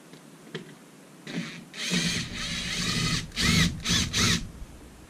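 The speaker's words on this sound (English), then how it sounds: "grab the terminal screws, and drive them in there" A power driver drives terminal screws into a two-way light switch, giving several short whirring bursts close by, with brief pauses between them and no talking.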